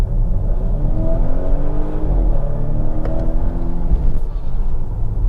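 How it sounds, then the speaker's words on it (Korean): The 300-horsepower 48V mild-hybrid engine of a Volvo XC90 B6 SUV revs and accelerates steadily, its loud rising mechanical drone filling the cabin, with no talking. "좀 시끄럽게 반응을 하는 엔진이기는 해요."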